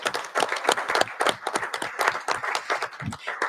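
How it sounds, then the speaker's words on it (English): Clapping at a council meeting to welcome youth councillors: a modest group applauding in distinct, fairly close claps, steady and uneven in rhythm, carrying on alone without speech. "we are going to clap to welcome our youth counselors"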